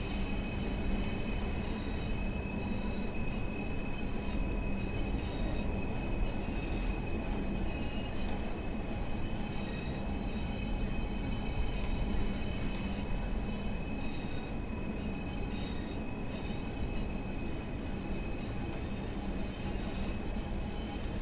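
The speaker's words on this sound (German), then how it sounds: "Gehen wir mal direkt in die dritte Bremsstufe rein" Class 142 train braking in Train Sim World 4, a continuous loud rumble of wheels on rails with faint high squeal and clatter, steady throughout with no speech.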